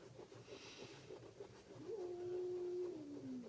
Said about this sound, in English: Once again, cats. Can you hear them?